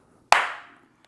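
A single sharp hand clap, close and loud, with a brief ringing decay into a quiet room, followed by a faint click.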